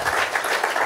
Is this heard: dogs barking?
no